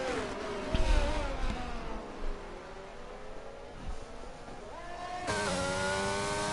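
Simulated Formula 1 race car engines in a racing video game, with a sustained high whine that rises and falls in pitch through several shifts and a sharp upshift near the end, with no speech.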